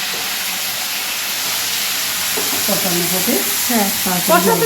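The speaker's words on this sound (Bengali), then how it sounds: "এই মশলাটা দিয়ে দেবো হ্যাঁ এখন একদম কষিয়ে নেবে" A spice mixture sizzles and crackles steadily while being fried and stirred for a Bengali dish, with stirring scrapes growing busier and louder in the second half.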